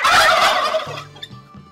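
A turkey gobbles loudly in a rapid rattling burst up close, followed by a few softer clucks.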